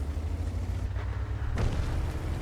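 An artillery shell slams into a tank in World of Tanks, a deep low boom swelling into a sustained rumble with a sharper burst of impact noise partway through, loud and steady with no talk.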